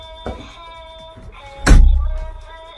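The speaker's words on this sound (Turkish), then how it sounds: "kapıyı aç" A door opens indoors with a small click, then a heavy close thud with a low rumbling resonance that fades away, over a constant faint electronic tone.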